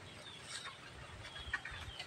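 Chickens cluck faintly in a garden where eggplants and chili plants grow, with a few short clucks rising over steady outdoor background noise.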